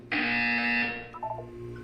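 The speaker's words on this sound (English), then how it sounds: "When you hear the buzzer, look up at the ceiling." A loud, steady electronic buzzer from the video game Portal 2 sounds alone for about three quarters of a second, then cuts off into a few fainter tonal blips.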